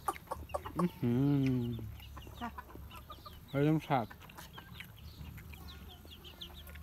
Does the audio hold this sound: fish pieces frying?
no